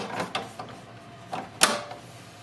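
Black ink cartridge being locked into an HP DeskJet 4200 printer: a handful of soft plastic knocks build to one crisp click, close and clear with no talking.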